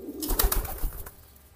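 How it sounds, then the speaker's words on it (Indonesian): A newly acquired pigeon coos in a few soft, throaty bursts close by, with some rustling in between. "Nah, ini merpati baru tuh. Gak mau diem."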